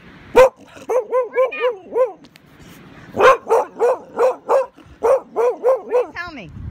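Dogs at a rescue play in deep snow during a blizzard, letting out repeated loud barks and yips in quick rhythmic runs, close by, with a pause between bursts.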